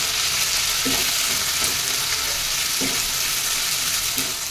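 Chopped onion, ginger and carrot fry steadily in a pan for soya pulao, giving a continuous hiss with a few soft scraping stirs at intervals.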